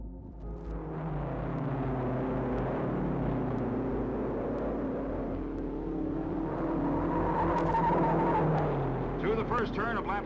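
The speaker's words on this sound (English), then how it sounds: "first turn of lap 3, Vukovic fights McGrath for the groove. He's passing" Archival race cars roar around the track at the Indianapolis race in a blended, continuous engine drone, heard from a distance under an announcer's excited commentary.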